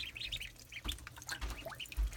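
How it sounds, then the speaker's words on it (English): Baby ducklings in a warm-water tub give a steady stream of high, peeping chirps at close range, over faint splashing. "baby ducks in the tub."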